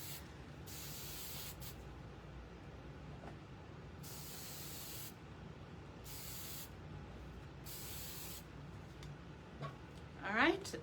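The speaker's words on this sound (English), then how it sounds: "I'm just going to use a little bit of the Rusk weightless spray just to kind of finish it" Rusk weightless hair spray hisses out in about four separate short bursts while a medium shag haircut is finished, with a low room background underneath.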